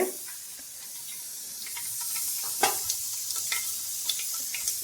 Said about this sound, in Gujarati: શાકનો વઘાર અત્યારે શરૂ છે.